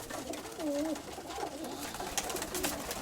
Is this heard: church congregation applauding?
no